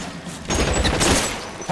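A short loud burst of overlapping gunshots in L.A. Noire, a shootout volley crackling up suddenly out of a background rumble and fading within about a second.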